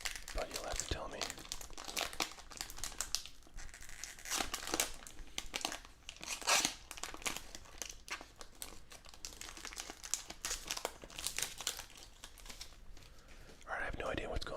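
Packs of baseball trading cards being opened and sorted by hand, with close, steady crinkling of foil wrappers and shuffling of cards, soft and continuous with brief louder bursts.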